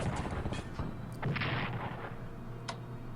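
An artillery shot in the strategy video game Strategic Command, a burst of booming blasts up front that trails off into quieter pops, with no talking.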